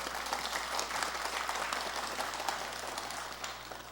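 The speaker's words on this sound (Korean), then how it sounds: "그렇다고 생각하면 한번 박수를 쳐봐요" Audience at a Buddhist Sunday dharma service in Korea breaks into applause, a dense patter of many hands clapping steadily for a few seconds and easing off slightly toward the end, with a low hum underneath.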